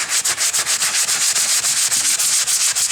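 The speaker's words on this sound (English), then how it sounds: "sorry about the noise, sand in my circles." Wall hand-sanded in circles with a 3M fine sanding block, a loud close rhythmic rasping scrub repeating in quick even strokes with no talking.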